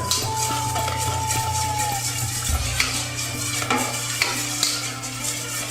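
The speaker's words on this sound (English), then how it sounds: "then we're going to mix that all together" Fish sauce, lime juice and brown sugar stirred together in a bowl, a soft steady swishing with faint utensil taps against a constant low hum and kitchen background noise.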